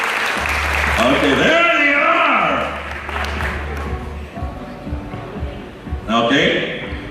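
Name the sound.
audience applause at event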